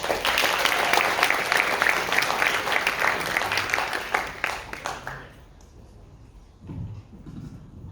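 Audience applause at the SPARK 2022 UVA entrepreneurs event, loud and dense for about five seconds as a student speaker is introduced, then fading into quieter room noise with a few scattered claps and shuffling.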